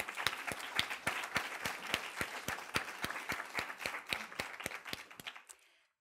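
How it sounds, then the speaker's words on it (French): An audience at an academic honour roll ceremony claps in steady, rhythmic applause, with sharp regular beats that trail off and stop near the end. "Cela vaut vraiment une bonne main, encore une fois, d'applaudissements."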